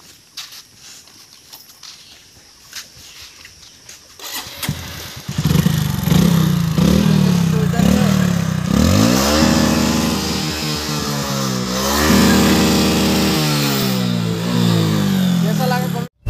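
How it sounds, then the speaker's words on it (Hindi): Honda 1000RR sportbike with a new aftermarket exhaust starting up, then revving hard several times at close range, rising and falling loudly; a person speaks quietly beforehand. "ये मेरा 1000 RR का नया एग्जॉस्ट है, साउंड भी कुछ है।"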